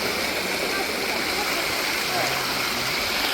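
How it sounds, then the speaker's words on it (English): Hot spring water rushing down a travertine gutter at the Pamukkale terraces, a loud, steady, broadband wash of flowing water heard up close and continuously. "we're sitting in the gutter where the water from the hot springs is coming down"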